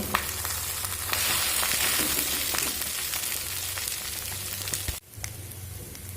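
A fish finger mixture of fish and potato fries in a pan, giving a steady close sizzle broken by stirring scrapes, then a brief dip before the sizzling resumes.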